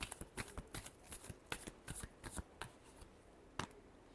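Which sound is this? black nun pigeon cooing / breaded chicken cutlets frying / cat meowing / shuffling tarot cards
shuffling tarot cards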